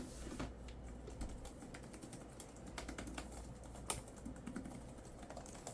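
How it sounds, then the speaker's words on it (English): Typing on the chiclet keyboard of an HP Victus 16 laptop, a steady run of quiet, soft key clicks at close range with no talking, over faint background noise. "let me put it down again to type"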